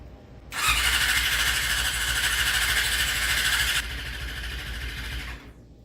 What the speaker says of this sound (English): Great starter motor, by the way. What a great starter motor.